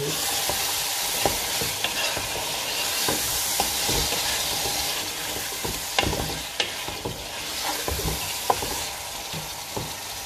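A chicken biryani mixture is stirred in a hot pan, giving a loud, dense sizzle and hiss with repeated spatula scrapes and knocks against the metal, close by and without speech.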